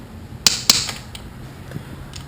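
A 1/4-inch drive ratchet with an 8 mm socket removing small right-hand crankcase cover bolts on a 2014 Honda Grom, two sharp close clicks followed by a few fainter ticks in a quiet room.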